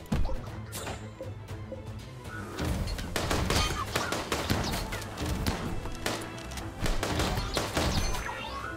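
Gunfire during a raid in the video game Rimworld, rapid bursts of shots mixed with crashing impacts, loud and near, repeating in quick clusters throughout.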